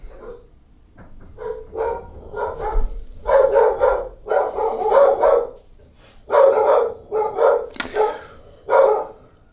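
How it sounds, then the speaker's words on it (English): Several dogs bark repeatedly indoors in irregular bursts, some close and loud, with yips mixed in and brief quiet gaps between volleys. "Can you hear my dogs?"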